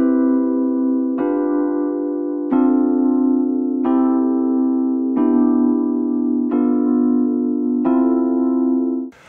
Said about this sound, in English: So far I have this chord progression that sounds like this.